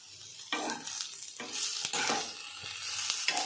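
Ingredients roasting in a hot pan for hagalkai palya, a bitter gourd dish, with onions: steady close sizzling broken by repeated scraping strokes of a spatula stirring, no voices.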